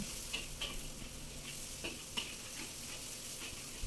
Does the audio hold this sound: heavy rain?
no